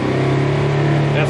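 A Polaris General XP side-by-side fitted with an HMF dual quiet loop exhaust runs with a steady, loud engine drone that holds one pitch. Someone talks over it.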